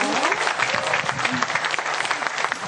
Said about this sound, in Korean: 우리 응원의 박수 한번 드리면 될까요?